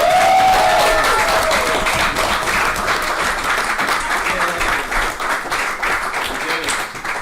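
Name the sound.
audience applause celebrating Shenmue 3 release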